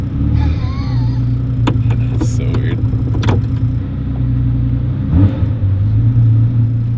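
The engine of a Ferrari F40 being tuned for idle air-fuel ratio rumbles steadily near idle, with a few sharp clicks and a brief rise in revs. People talk over it.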